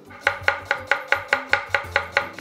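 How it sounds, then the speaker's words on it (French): Knife chopping vegetables finely for a fish blanquette, about ten even, crisp strikes on a cutting board at a steady quick rhythm, close and clear with no talking. "on va couper nos légumes relativement fins"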